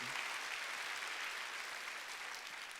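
A congregation applauds during a Wednesday church worship service. The brief, faint burst of clapping holds steady and fades a little toward the end.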